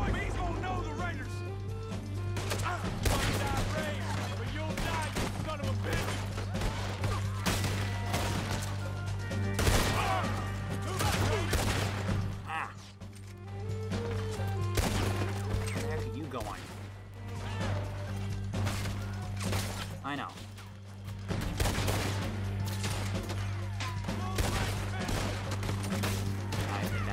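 Heavy gun firing in a Red Dead Redemption II shootout, repeated loud blasts and crashes scattered across the half-minute over a steady music bed, with voices talking between the shots.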